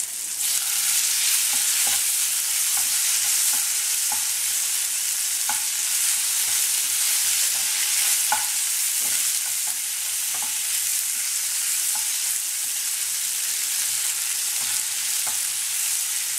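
Steady sizzling of onions sautéing in a pan with occasional stirring scrapes, continuous and close, no voices.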